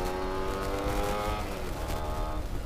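A Yamaha F1ZR two-stroke motorcycle engine runs loud and close, revving steadily in a continuous buzzing drone.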